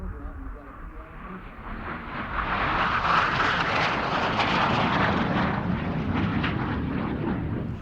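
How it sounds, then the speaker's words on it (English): A Canadair Mark 6 Sabre F-86 jet with an Orenda engine roars at an air show, its loud jet noise swelling and then holding steady at full power. "This is a Canadair Mark 6 Saber jet."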